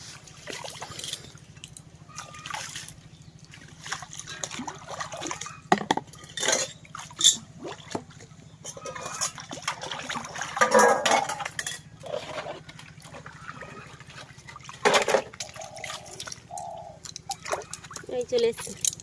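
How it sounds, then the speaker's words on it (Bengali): Dishes are washed at a pond, with water splashing and sloshing and metal pots and plates clinking close by, while people talk over them. "এই পুকুরে বাসন ধুতে যাচ্ছি"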